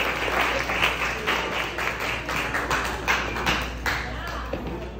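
Audience applause at an engagement party, steady clapping from many hands throughout, with a voice talking over it.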